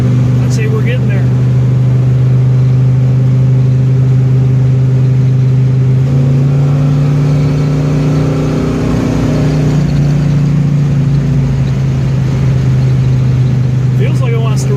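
A 1968 Buick GS 400 V8 engine running close by at steady revs, a loud, constant low drone that shifts pitch partway through as the car accelerates, with faint speech underneath.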